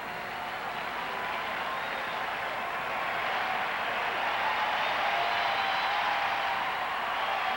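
A baseball crowd in Pittsburgh applauds Andy Van Slyke's 1,000th career hit during a Braves vs Pirates game, a steady, moderately loud wash of clapping and cheering that swells slightly and holds throughout.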